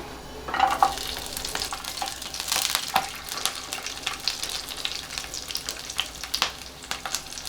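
Ginger, garlic and chili fry in hot oil in a pan for a tender coconut vegetable dish, sizzling continuously close by, with a burst of spatter early on and scraping stirring strokes throughout.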